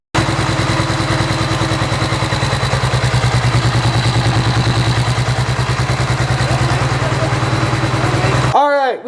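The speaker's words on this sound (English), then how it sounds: "Alright, we did get the Cummins fired up." A Cummins diesel engine, swapped into a vehicle, runs close and loud with a fast, even clattering rhythm throughout, then cuts off with a brief sweeping whine at the very end.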